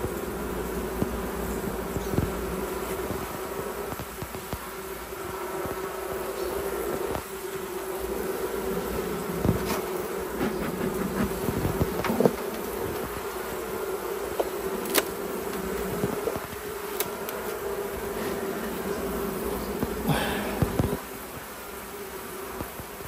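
Honey bees buzz steadily at an open hive, weakened by varroa mite infestation, a dense continuous drone close by with occasional louder passes of individual bees and faint handling knocks throughout.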